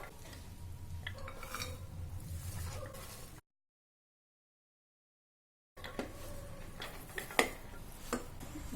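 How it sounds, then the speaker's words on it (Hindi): Mustard greens tumbling into a pressure cooker on a gas stove for Punjabi sarson ka saag, with soft rustling and metallic clinks and scrapes, broken by a silent gap before more clattering pot sounds. "इसमें हम सरसों डाल देते हैं।"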